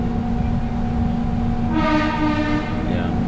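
An airport rail link train from Soekarno-Hatta Airport to Jakarta rumbles steadily nearby with a low mechanical drone, and partway through a bright, tonal horn or whistle sounds over it.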